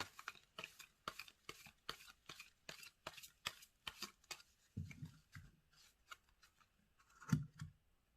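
Tarot cards drawn and handled at close range, a steady run of short crisp flicks and snaps, roughly twice a second, giving way to softer rustling and one sharper slap near the end, with no talking.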